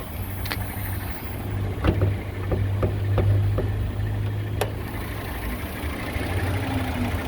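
The V6 engine of a 2010 Hyundai Santa Fe idles with a steady low hum, with a few sharp clicks and ticks over it, heard up close from the open engine compartment with no talk.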